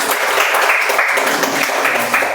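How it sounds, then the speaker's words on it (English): A Toastmasters club meeting audience applauds Toastmaster Radha with steady, loud, dense clapping that holds evenly throughout, close to the listener. "Let's give a good round of applause to Toastmaster Radha."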